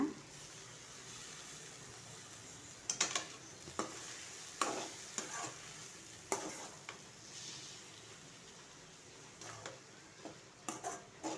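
Potatoes with coriander stir-fried in a pan, a faint steady sizzle punctuated by scattered scraping and clinking of a spoon against the pan, close by.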